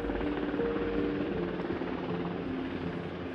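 A rescue helicopter lifts off nearby, its rotor and turbine making a steady, loud, close thrumming roar that fades slightly toward the end.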